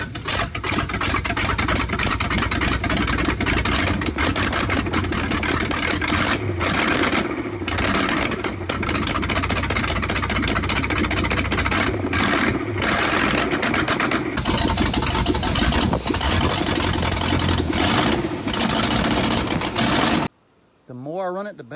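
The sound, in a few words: Chewy van engine running and idling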